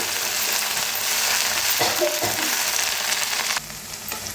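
Chopped fenugreek greens being tossed and stirred in a full kadai, with a steady loud sizzle of frying throughout and a few scraping stirs, the hiss dipping slightly near the end.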